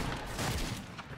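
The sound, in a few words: gunshot in a video game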